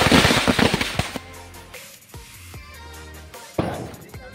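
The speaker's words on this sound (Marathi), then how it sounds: "थोडेसे आता फटाके फोडूया" Firecrackers burst during a Ganpati immersion procession in Kurchumb Manewadi village: a rapid cluster of sharp cracks opens the clip, followed by scattered louder bangs and a final close pop. There is no talking.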